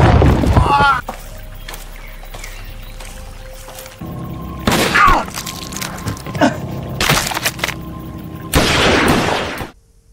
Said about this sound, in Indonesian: Mempersiapkan tembakan, letusan langsung diberikan.